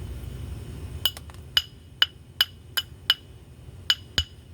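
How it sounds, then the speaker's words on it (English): A glass bottle bottom is knapped with repeated sharp hammer strikes, about ten crisp, ringing clinks at irregular intervals, close and clear over a quiet background. "I'm going to smack that piece off right here."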